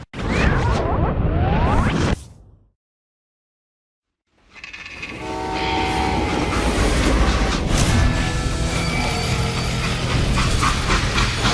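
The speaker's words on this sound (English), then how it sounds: "They hopped a freight train" Freight train in the Call of Juarez: Gunslinger video game: rumbling, clanking rail noise with whooshes, cut by a couple of seconds of silence before the heavy mechanical din returns and carries on.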